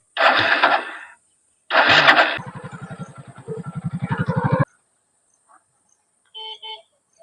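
A motorcycle ridden by a beginner on the third day of learning gives short bursts of engine noise, including a throbbing, pulsing stretch of a few seconds, then quiet gaps and faint brief sounds.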